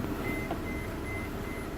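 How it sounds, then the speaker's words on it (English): A faint, repeating electronic proximity sensor beep from a camper van sounds over a steady idling vehicle hum, pulsing on and off. "This button keeps the beep from occurring from the proximity sensor."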